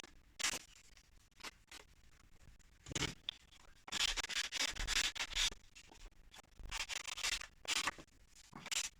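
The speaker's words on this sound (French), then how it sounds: "Quand ça peluche un petit peu, petit coup de lime." Paper edge being filed smooth with quick rubbing, scraping strokes in irregular bursts, close and fairly quiet, with short pauses between passes during a paper craft album project.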